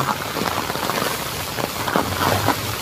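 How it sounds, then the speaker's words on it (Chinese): Heavy thunderstorm rain pours steadily on a field at night, a dense continuous hiss of drops striking surfaces, loud and close throughout with no voices. "这会儿下的雨还挺大的。"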